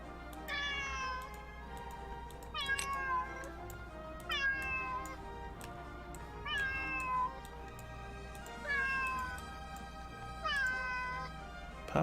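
A cat meows repeatedly in an indie video game, six short, clear meows at roughly even intervals, close, over a low steady background hum with no talk.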